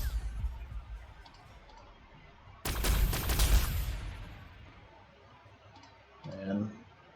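A single loud burst of gunfire from a Warhammer 40,000: Sanctus Reach battle, erupting sharply and decaying over about a second against quiet ambient game sound, followed by a brief voice.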